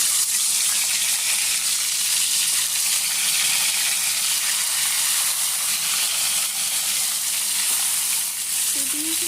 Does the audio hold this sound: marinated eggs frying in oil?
yes